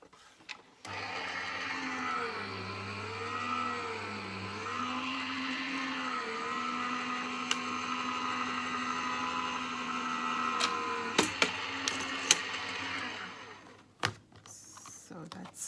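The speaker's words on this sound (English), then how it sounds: "This is a Gemini Junior which I often reach to." Gemini Junior die-cutting machine running a sheet of card through its rollers, a steady motorized whir with a low hum and a wavering pitch lasting most of the stretch, ending in a few clicks.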